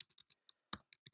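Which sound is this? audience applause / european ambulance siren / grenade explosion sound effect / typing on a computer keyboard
typing on a computer keyboard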